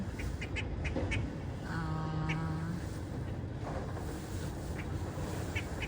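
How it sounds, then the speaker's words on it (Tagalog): Ducks quack in short, scattered calls across a steady outdoor background in Shanghai, with a few clustered quacks near the start and end, moderately close. "Oh, di ba may duck? Dalawa yan eh."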